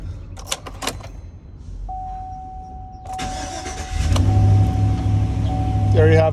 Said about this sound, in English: let's put our key in the ignition.